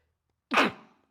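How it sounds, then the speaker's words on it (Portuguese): A single sharp sneeze bursts out of near silence, loud and close, then trails off quickly. "calma aí que eu vou espirrar."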